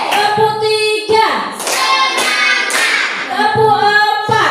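A classroom of students claps hands together in rhythmic bursts, sharp loud clusters of claps separated by short pauses, with children's voices chanting along between the beats.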